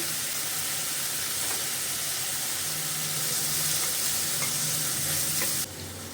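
Onions and tomatoes sauté in a hot pan with a steady, close sizzle and occasional stirring scrapes; the hiss drops noticeably just before the end.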